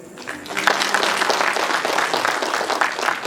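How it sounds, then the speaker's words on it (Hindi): A crowd claps at an Atal Smriti Varsh closing ceremony in Itanagar, a brief, dense patter of applause that swells quickly and holds steady and close for a few seconds. "आप लोग ताली मार मार के थक जाएंगे"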